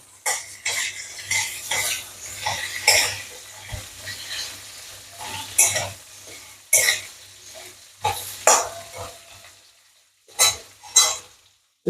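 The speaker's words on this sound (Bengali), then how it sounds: "আলু পটলগুলো পাতলা পাতলা করে কেটে রেখেছি সেটা একটু ভেজে ভেজে নেবো" Thinly sliced potato and pointed gourd fry in a pan as a spatula repeatedly scrapes and tosses them. Loud, irregular bursts of clatter and sizzle come with short pauses between them.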